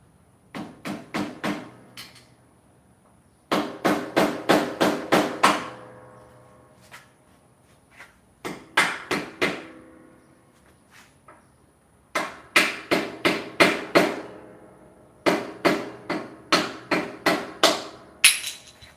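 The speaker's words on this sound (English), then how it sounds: "we're going to go ahead and bust this cap off as well" Repeated hammer blows knocking the caster cap off a Kubota SZ1936 mower, sharp metallic strikes in five fast bursts of several hits each, close and loud with short pauses between bursts.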